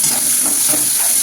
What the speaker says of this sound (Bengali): পেঁয়াজটা হালকা ভাজা হয়ে গেলেই টমেটোটা দিয়ে দেবে, দিয়ে খানিকক্ষণ কষাবে।